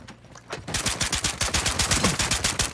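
Rapid automatic gunfire from Modern Warfare 2 multiplayer, a dense loud burst of evenly spaced shots that starts after a brief quieter lead-in and continues steadily to the end, with no speech over it.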